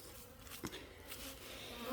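Honeybees buzzing around a log hive, forming a soft, continuous hum with a few brief louder passes as individual bees fly near.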